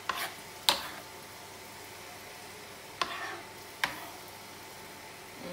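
Canned artichokes dropped into a hot pan for a vegan artichoke spinach dip, giving a soft steady sizzle with a few sharp clatters of stirring or utensil knocks at intervals; no one speaks.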